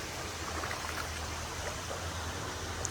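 Hokendauqua Creek flows with a steady, quiet wash of water, a soft continuous rushing with no distinct splashes, heard from nearby at low level.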